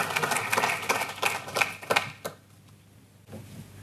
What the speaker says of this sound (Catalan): Un aplaudiment per ell.